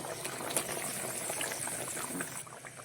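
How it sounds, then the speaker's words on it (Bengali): Fish curry gravy made with coconut milk bubbles at a steady boil in a pot, giving a dense, continuous simmering hiss with soft popping throughout, close and fairly even in loudness. "ঝোলে জাল উঠলেই মাছগুলো দিয়ে দেবো। জাল উঠে গেছে"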